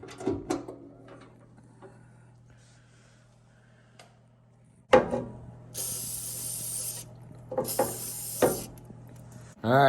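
Penetrating oil (WD-40) hisses from a spray can onto a frozen saw blade mechanism in a workshop, one steady, bright spray burst lasting about two seconds, flanked by clicks, metallic ratcheting and handling knocks, close and with no talking.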